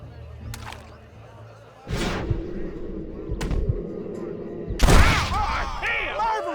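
Gunfire in the Western game Red Dead Redemption: several sharp, booming shots ring out with echoing tails, the loudest near the end, while voices talk around them.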